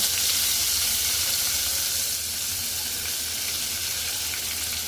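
Garlic, coriander and a pinch of asafoetida sizzle hard in hot tempering oil for dal, a dense, steady crackle that runs loud throughout and eases slightly partway, with no talk over it.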